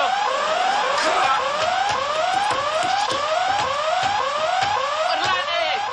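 A loud electronic alarm wails continuously, its pitch sweeping up and down in rapid repeating cycles, with a person speaking faintly underneath.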